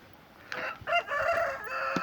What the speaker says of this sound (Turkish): Da bakın tavuklar var.